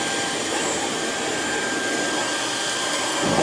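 An MBYULO 600W cordless vacuum cleaner runs on its mid setting, giving a steady, loud whirring roar with a faint high whine throughout, with no voices.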